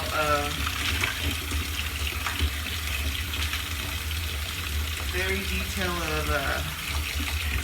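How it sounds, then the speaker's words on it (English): Raw shrimp rinsed under a running kitchen tap, a steady gushing stream of water into the sink that continues throughout, close and fairly loud, while someone talks over it. "We're just gonna give it a rinse, just to rinse off that fishy ocean water flavor off of it."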